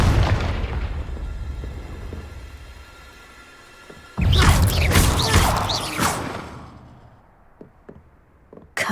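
A loud, booming fire blast from the Confringo explosive curse erupts in Hogwarts Legacy, played on hard difficulty, after a sustained rumbling mechanical hum, then fades into quieter crackles and small pops.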